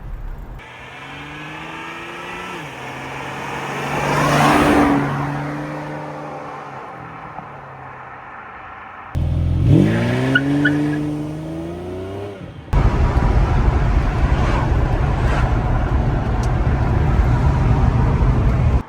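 Ferrari 456 driven out on the road: engine note rising and falling through acceleration, a swelling pass in the opening seconds, then a sharper revving burst and steady, louder road and engine roar toward the end.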